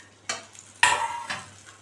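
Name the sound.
stirring brinjal thokku in a pan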